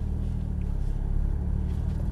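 A Porsche Cayman S drives with a deep, loud engine rumble close by, its low drone swelling slightly as it pulls forward over about two seconds.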